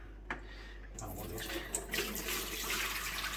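Water dribbles and splashes from the valve of a Pinter beer keg during cleaning, a soft running trickle with a few small knocks, fairly quiet and continuous at close range.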